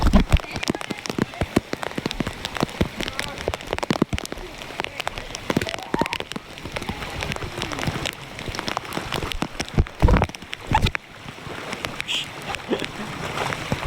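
Heavy rain pours down steadily in a village in Thangadh, water pooling and splashing, with dense broadband drumming and sharp irregular splats throughout, close and loud, no voices.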